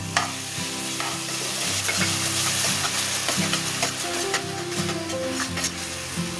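Ground onion paste fries in a hot pan with other spices, sizzling steadily and close up while a spoon stirs and scrapes through it in repeated strokes.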